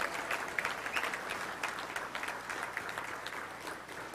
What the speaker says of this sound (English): Let's give all of our great volunteers a round of applause.